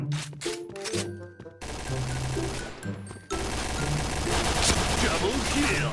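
Gunfire in the battle royale game PUBG comes in rapid bursts and scattered shots, loud and close, with someone speaking at times over the shooting.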